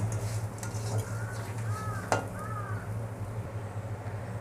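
Masoor lentils fry lightly in a pan with turmeric and salt, giving a soft, continuous sizzle under stirring, with a single sharp utensil clink partway through.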